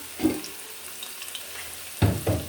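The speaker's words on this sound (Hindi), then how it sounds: "ये लीजिए कड़ी को लगने लगा है तड़का" Tadka tempering hisses and sizzles as it hits a pot of pakora kadhi in a home kitchen, with two short bursts of crackle and faint clatter between them.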